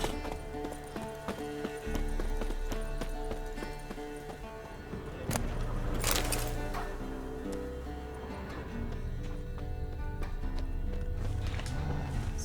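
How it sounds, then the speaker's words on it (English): A horse in The Witcher 3: Wild Hunt gives clip-clop hoofbeats and a whinny over steady game music, the hooves fairly close and the music filling the background throughout. "There's a horse."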